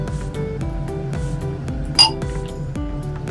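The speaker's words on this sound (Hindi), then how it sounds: "मैं इसमें 1 से 2 चम्मच पानी डाल रही हूँ।" A spoon adding water clinks sharply once against a mixer jar while making beetroot chutney, standing out above a steady low background hum.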